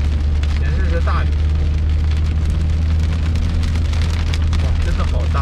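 Heavy rain drums steadily on a moving car while driving through European cities, countryside and forest roads, a constant dense patter over low engine and road rumble, with occasional voices in the cabin.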